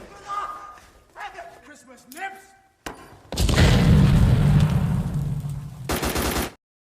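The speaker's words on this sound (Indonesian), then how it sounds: "mereka membunuh semua prajurit Jepang dan mengebom goa itu dengan granat" Grenade explosions blasting a cave in a war film about Japanese soldiers: a dense, loud roar of blasts and gunfire lasting several seconds, following quieter stretches where voices speak.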